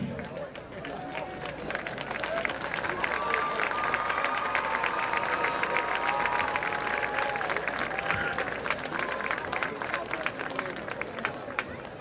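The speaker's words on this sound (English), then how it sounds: "a final big round of applause" Sustained, dense applause from a large crowd at a high school marching band performance, steady and loud throughout, with scattered cheers and voices mixed in.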